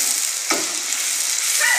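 A thick paste fries in a pan with a dense, constant sizzle, close and loud, with a brief stirring scrape partway through.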